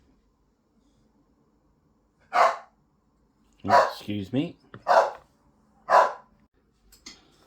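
A dog barks in several sharp bursts nearby in an indoor room, a single bark, then a cluster of quick barks and yips, with someone speaking briefly between them.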